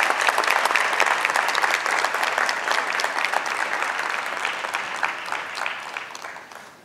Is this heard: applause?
yes